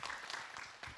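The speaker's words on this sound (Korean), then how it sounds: "박수로 맞으세요" Audience applause at a Buddhist question-and-answer dharma talk, a short, faint patter of clapping from the crowd.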